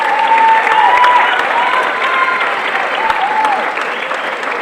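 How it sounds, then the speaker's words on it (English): Audience applause following a piece at the Valley Forge holiday band concert: loud, dense, sustained clapping from a large crowd filling the hall throughout, easing slightly toward the end. "Let's give them another round of applause."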